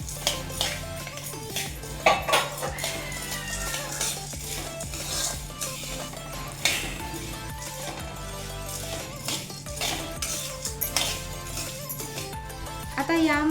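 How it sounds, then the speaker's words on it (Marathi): Moong and chana dal roasting together in a pan, with a utensil scraping and clinking against the metal and a light sizzle underneath, while someone talks over it. "आपण मूग डाळ आणि चणा डाळ एकत्र भाजून घेऊया"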